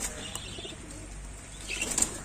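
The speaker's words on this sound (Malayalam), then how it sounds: "ആ ചിറകടിക്കനൊക്കെ ഉണ്ട്" Caged pigeons flapping their wings in quick, soft fluttering bursts, fairly close and moderately quiet, with brief light chirps and no talking.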